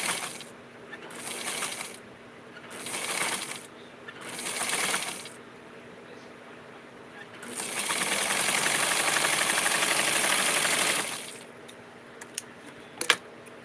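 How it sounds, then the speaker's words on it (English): A sewing machine stitching Simplicity 4422 fabric close to the edge, heard as three short bursts, a pause, then a longer steady run of about four seconds, followed by small clicks. "I'm sewing very, very close to the edge."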